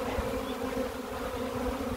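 Honeybees buzz at an open hive while a beekeeper tightens the frames, with a dense, steady drone close by that continues without a break.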